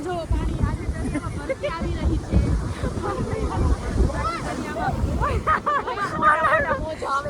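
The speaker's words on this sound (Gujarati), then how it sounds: "હા અને આ બધે આમ જો પાણીના હિલોડા." Sea waves wash against the shore in steady rolling surges, mixed with gusty wind buffeting the microphone and a crowd's murmur of voices throughout.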